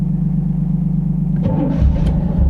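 A car engine rumbling at idle, then a burst of higher revving as it catches, close and loud with a low steady drone underneath.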